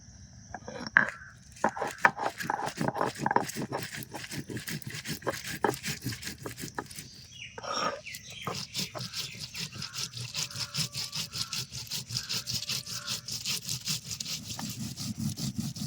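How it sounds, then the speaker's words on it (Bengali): Whole cumin, coriander seeds and dried red chilies being ground with a little water on a traditional grinding stone, making rhythmic, repeated rubbing and scraping strokes, fairly soft and close, that continue steadily throughout. "অল্প অল্প করে জল দিয়ে আস্তে আস্তে মশলাটা বেটে নিতে হবে"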